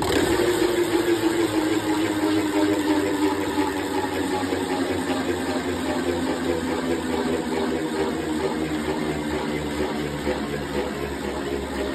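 A Beyblade X spinning top with a six-sided ratchet whirs continuously in a stadium, a steady close rattling hum that slowly eases in pitch across the stretch, no voices.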